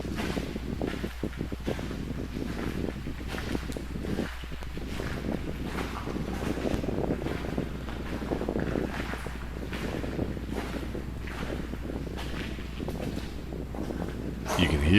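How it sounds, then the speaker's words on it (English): Strong, chilly wind rushing through the Isegami Tunnel in Japan, a steady broadband roar with gusty buffeting on the microphone throughout, swelling slightly near the end; faint voices may sit under it. "there's a real wind coming straight through from the other side. Really, really chill wind it was."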